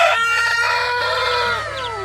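Rhode Island rooster among crossbred chicks: a loud, close rooster crow fills the whole moment, with bright, wavering cackling and clucking layered over it and a steady low hum underneath.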